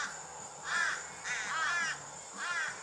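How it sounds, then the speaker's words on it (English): Crows cawing at a beach in three loud, harsh bursts of repeated caws at a steady spacing, fairly close, with faint background noise between calls. "these little dudes are crows."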